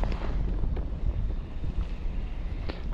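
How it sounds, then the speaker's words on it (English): Steady wind buffets the microphone during kayak fishing for perch and walleye on open water, a constant low rumbling roar with small gusty swells and no voices. "there is a bit of a wind"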